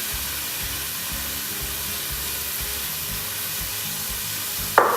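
Diced onions with minced garlic, ginger and chilli fry in a pan for a Pakistani biryani, giving a steady, even sizzle that holds the whole time, with a brief louder clatter near the end.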